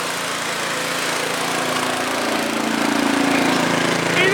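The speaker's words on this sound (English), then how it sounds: "He's snow blowing." Snow blower engine runs steadily outdoors after a blizzard, clearing snow with a continuous, fairly close mechanical drone that grows slightly louder toward the end.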